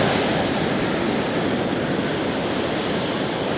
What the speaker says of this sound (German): Ja, das Meer ist heute wirklich sehr wild.